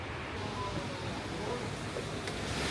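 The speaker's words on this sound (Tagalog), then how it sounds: "Ayan guys, rinig niyo na yung ulan." Steady, dense broadband rush of heavy rain in Pattaya, Thailand, loud and continuous throughout, with a wind-like roar and no voices.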